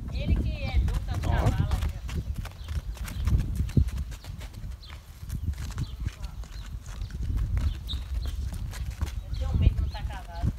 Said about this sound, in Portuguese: olha o galope, galope bonito